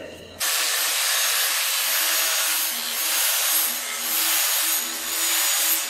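A grinding wheel strips heavy varnish from a wooden axe handle, and the varnish clogs the wheel. After a short quieter start, a loud, steady abrasive rush sets in and swells gently as the handle is worked against the wheel.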